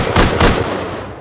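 Broadband bursts of a jackhammer striking a turret in the survival game Rust, two loud impacts close together followed by a rough decaying rattle, heard near with no talk.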